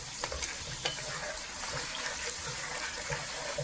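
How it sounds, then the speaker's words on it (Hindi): Masala frying in a pan for a rice pulao with meat, sizzling steadily as a little water is added and stirred in, a continuous hiss with faint scraping clicks and no talk. "अब हम इसमें थोड़ा सा पानी ऐड करते हैं ताकि मसाले जो है वो जल ना जाए"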